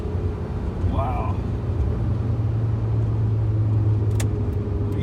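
A car with a newly installed brass shifter bushing drives along, its engine and road noise forming a steady low rumble throughout, with a brief faint chirp near the start.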